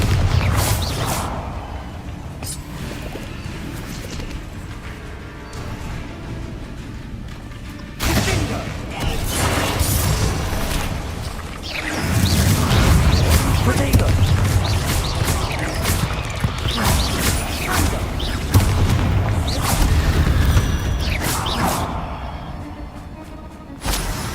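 Bombarda and Confringo spell explosions in Hogwarts Legacy combat: a dense, continuous barrage of booms, crashes and whooshes that grows heavier partway through, with game sound throughout.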